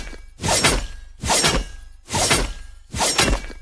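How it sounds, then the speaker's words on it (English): Four sharp sword-swing impacts from Ling's basic attack in Mobile Legends, with a shattering, crunchy burst, evenly spaced about every eight-tenths of a second, loud and close with no talking. "ang bagong sound effects ng basic attack ni Ling"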